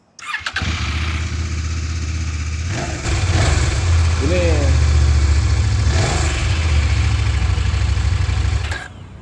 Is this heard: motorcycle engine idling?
yes